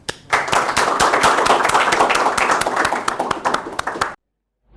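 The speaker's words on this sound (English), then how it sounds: "Okay, gentlemen, clapping for him." A group of students claps for a flying officer of the Indian Air Force, with loud, close, rapid individual claps forming a vigorous burst that cuts off abruptly into silence near the end.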